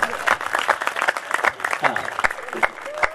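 Listeners at a Hindi comic poetry recital clap in uneven bursts, the applause mixed with a speaking voice and crowd murmur throughout.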